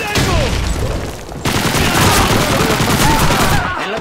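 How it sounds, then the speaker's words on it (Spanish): Sustained, loud automatic fire from an MG-42 machine gun in the World War II shooter Call of Duty 2, with a dense unbroken fusillade, a brief dip before it surges again, and shouted voices mixed into the battle. "¡Es una MG-42!"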